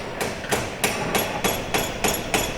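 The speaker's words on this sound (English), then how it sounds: "All riveted up." Rapid, evenly spaced metallic rivet-gun hammering on the fuselage skin of a Lancaster bomber under restoration, about eight sharp bursts in a steady rhythm, loud and close with ringing metal between hits.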